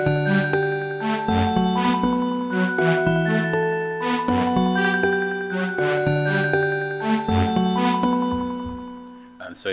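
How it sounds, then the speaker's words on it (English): Three-oscillator synthesizer patch built in Logic's Alchemy, playing bright, bell-like repeated notes in a steady rhythmic pattern with shimmering overtones and no voice over it. "I've made this very simple patch, which is 3 oscillators, but it's using lots of node properties."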